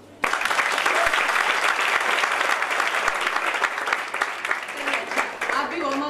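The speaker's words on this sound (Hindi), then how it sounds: "मैं चाहती हूँ कि तालियां हो जाए" A live audience bursts into dense, sustained applause that starts suddenly and continues loudly throughout, with a voice briefly heard near the end.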